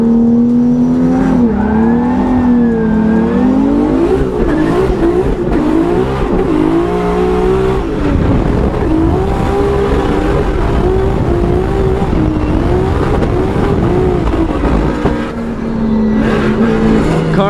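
BMW E36 drift car at a Formula Drift event, its engine loud and continuous with wavering, unsteady pitch that sputters and breaks up as it loses power, with no talk over it.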